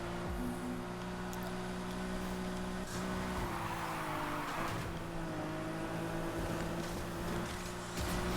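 A BMW 3 Series engine in the racing game NFS Heat drones steadily throughout, a sustained engine tone with shifting pitch held at moderate loudness, with no talk over it.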